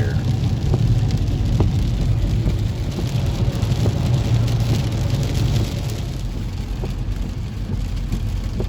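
Steady, loud rain pours on a car in daytime, a dense continuous hiss and patter with low rumble running throughout, no voices.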